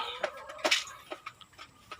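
Chickens on a small duck and chicken farm give short, scattered clucks, several sharp calls spaced irregularly and fairly close, with no talking.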